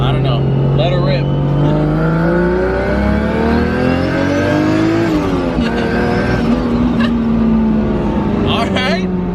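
A turbocharged car running 4 psi of boost accelerates hard on a street in Mexico, its engine note climbing steadily and loud from inside the cabin, shifting and pulling again, with voices talking over it.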